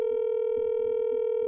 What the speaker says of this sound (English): Let me see if I can add Dogface